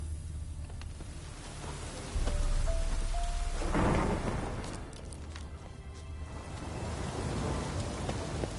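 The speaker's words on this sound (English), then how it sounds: "A storm, damn it." A thunderstorm rolls through a Witcher 3 game landscape, steady rain hissing throughout while a heavy rumbling thunder crash swells in the middle and slowly fades under the downpour.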